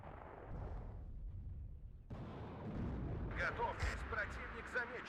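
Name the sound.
artillery shot in the video game Warno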